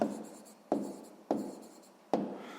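A pen writes in a notebook close by, four quiet strokes, each starting sharply and fading into a soft scratching.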